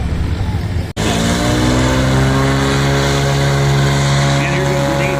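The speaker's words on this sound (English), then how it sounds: "These guys are doing their short field landing now as opposed to the obstacle landing event." A four-seat propeller aircraft drones steadily close by during a short-field landing at a STOL event in Livermore, California, its engine pitch shifting slightly, with a brief dropout near the start.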